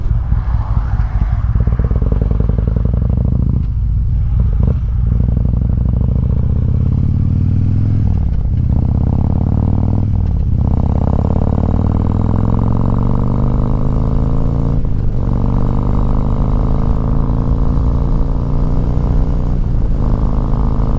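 A motorcycle rides along the road on older fuel, its engine a loud, steady drone throughout with a pitch that rises and falls as it accelerates, and a few short dips where the throttle eases.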